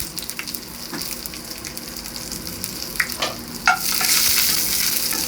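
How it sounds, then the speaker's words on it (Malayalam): Chili stirred and fried in hot oil for Kerala-style vegetable sambar crackles close and steady, with scattered scraping stir sounds and a louder surge of sizzle toward the end, and no voices. "അപ്പോൾ നമുക്ക് അതിനകത്തേക്ക് ഈ മുളക് ചേർത്ത് കൊടുക്കാം. നമുക്ക് ഇളക്കി കൊടുക്കണം."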